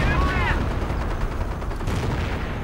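Artillery fire in a real-time strategy battle game, a dense rumble of booms and gunfire with a brief whistling tone at the start, steady and loud under a commentator's voice.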